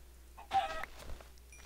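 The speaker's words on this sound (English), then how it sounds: "All these damn chickens I'm killing." Chickens in the video game Minecraft give a short burst of clucking, one brief cluster of calls standing out against a quiet in-game background.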